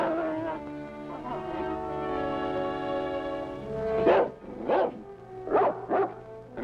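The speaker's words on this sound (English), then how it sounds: "A howling dog started it all." A dog howls in long, drawn-out rising and falling wails up close, then breaks into several sharp barks near the end.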